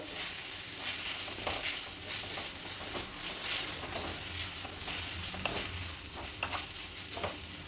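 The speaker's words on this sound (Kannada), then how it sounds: "ಸ್ವಲ್ಪ ಹುರಿಬೇಕು ಚೆನ್ನಾಗಿ ಫ್ರೈ ಆಗಿದೆ" Grated hill gooseberry chitranna frying in a pan, a steady dense sizzle with occasional stirring scrapes and soft clicks throughout, close and continuous.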